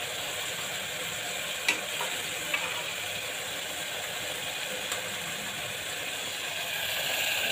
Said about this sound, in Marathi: चांगलं परतून घेऊ, हलवून घेऊ।